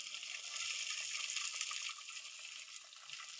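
Finely chopped medium onion sautés in a pan for green gram curry without ground coconut, giving a soft, steady hiss and crackle that carries on evenly at low volume throughout.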